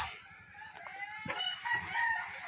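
A heritage-breed rooster crows clearly amid nearby clucking hens, a short close call with other chickens chattering in the background.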